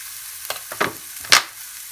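Egg masala frying in a pan just after chili powder goes in, with a soft steady sizzle and a few brief louder bursts of stirring or spattering, no talk.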